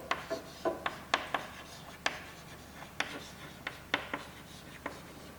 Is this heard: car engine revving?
no